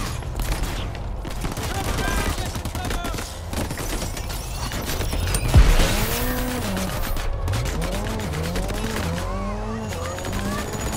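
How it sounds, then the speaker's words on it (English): Enemy gunfire in Crackdown 3, dense crackling shots running continuously beneath busy game noise and speech, with a louder impact near the middle. "Watch the enemy fire!"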